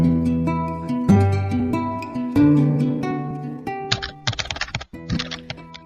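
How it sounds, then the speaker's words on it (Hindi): White typewriter keys pressed by a man in a closed room, with rapid clacking bursts of keystrokes rising over sustained tonal background music. "टाइपराइटर के बटन दबने की आवाज सुनाई दे रही थी।"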